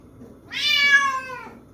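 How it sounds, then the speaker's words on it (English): A stray cat gives one drawn-out, clear meow at close range. It rises in pitch and then fades, with quiet room sound around it and no talking. "This is the stray cat making all the noise."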